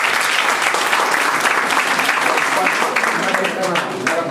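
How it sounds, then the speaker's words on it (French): Sustained, loud applause fills a lecture hall at a business school's opening-of-year assembly, a steady wash of many hands clapping with crowd murmur underneath. "il faut l'applaudir"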